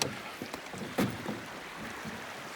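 A canoe is dragged up a shallow river by hand, producing splashy sloshing water and scraping knocks, with one louder splash partway through over outdoor wind.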